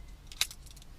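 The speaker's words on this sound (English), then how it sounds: "Just having this key to turn things on and off" A car key jangles once as it turns in the ignition of a 2014 Fiat 500e, a short, close metallic rattle with a sharp chime in the middle, alone and quiet.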